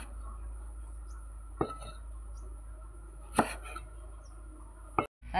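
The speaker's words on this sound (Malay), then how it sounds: "Kita potong memanjang-manjang." A few sharp knife chops on a cutting board, slicing onion and garlic lengthwise, spaced seconds apart, over a quiet steady background hum.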